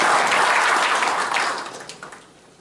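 Audience applause at a Korean chamber of commerce breakfast ceremony, a dense burst of many hands clapping that holds steady, then thins out and fades within a few seconds.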